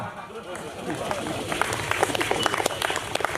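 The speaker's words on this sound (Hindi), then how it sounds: "अब बजी ताली" At a Hindi poetry gathering, the audience breaks into clapping after a poem, with scattered claps growing denser in the second half, mixed with voices.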